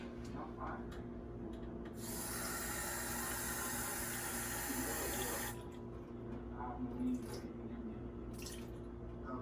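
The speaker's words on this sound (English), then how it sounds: "make sure you fill it up halfway with water" Tap water runs into a measuring cup in a home kitchen during nacho preparation, a quiet hiss and splash rising for a few seconds before cutting off, with faint handling sounds around it.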